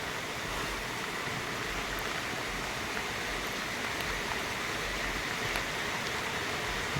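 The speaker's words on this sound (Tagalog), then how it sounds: "Nag-ulan-ulan na naman." Steady, dense rain hisses evenly throughout, a constant wash of noise with a few faint ticks and no voices.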